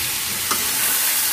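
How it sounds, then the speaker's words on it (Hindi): Vegetables with turmeric and spices tipped into hot oil, producing a steady, close, dense hiss of frying with a small bump partway through; no talking. "हल्दी पाउडर डाल के मैं तुरंत डाल दूंगी सब्जी।"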